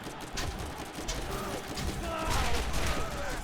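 Reaper gun from Borderlands firing a steady, dense burst of bullets with mechanical clatter, loud and continuous throughout with no talk.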